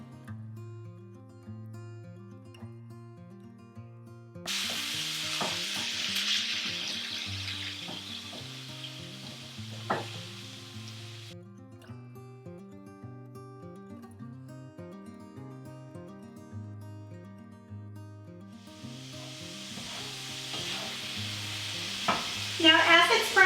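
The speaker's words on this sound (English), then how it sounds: "I like to use my mom's old-fashioned potato masher. It's perfect for getting it nice and broken up." Ground beef browning in a pan over medium heat while an old-fashioned potato masher breaks it up, soft sizzling with scraping strokes under steady background music.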